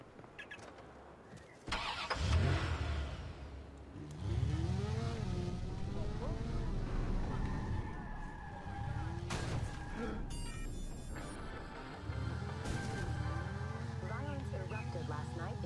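A car in the Watch Dogs video game is started and driven, producing a loud engine start, then a revving engine and rumble that rises and falls with gear changes, while someone talks over it.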